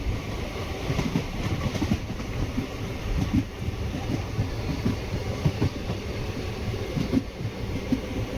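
Chennai Egmore Express passenger train travelling from Mangalore Central toward Tambaram, heard as a steady loud rumble with rhythmic clickety-clack of wheels over rail joints, continuous throughout with no talking.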